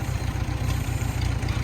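Allis Chalmers D17 Series IV tractor engine running steadily at close range, a loud low rumbling idle with an even, throbbing pulse and no talk, its uneven tone suggesting the carburetor needs work.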